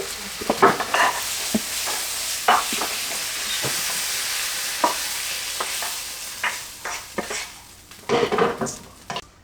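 Pork and onions sizzle steadily in a hot pan while a utensil scrapes and clacks against it in repeated irregular strokes, close up with no talking.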